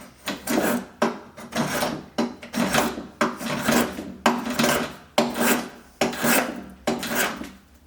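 A rasp scrapes rhythmically across wood, about ten harsh strokes in a steady back-and-forth rhythm, close and loud.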